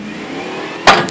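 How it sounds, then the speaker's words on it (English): A truck rolls back during a vehicle receiver and tow strap failure test. A steady engine drone runs loud and close, then a sudden sharp snap cuts through near the end. "when the truck is turned around and then rolls back beyond the 4-foot range"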